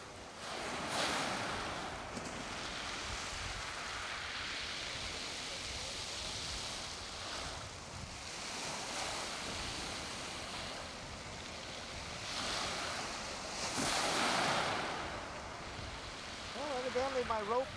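Ocean waves break and wash onto a Hawaiian shore where an outrigger canoe is being launched, with surges rising and falling over a steady surf roar and gusts of wind buffeting the microphone.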